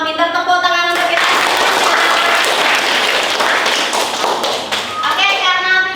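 A classroom of pupils breaks into loud, dense clapping for about four seconds, a close wash of many hands that swells and then fades as voices return at the start and end.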